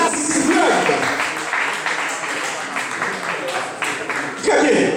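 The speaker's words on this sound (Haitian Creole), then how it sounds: "On doit applaudir 8 artistes qui sont performés à Soya dans l'Assisi Club" Audience applause for performing artists at a summer slam poetry contest in a club, a dense sustained wash of clapping lasting throughout, swelling again near the end, with voices mixed in.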